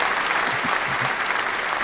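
Continuous crowd-style clapping, even and fairly loud throughout the brief moment, with a faint voice murmuring beneath.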